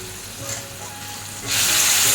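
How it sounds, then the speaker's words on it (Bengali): Egg curry spice paste with salt, turmeric, chili and cumin powder and a splash of water is stir-fried in a pan; a soft sizzle swells abruptly into a loud, bright hiss partway through. "এখন এটারে আমি ভালো করে কষাইব।"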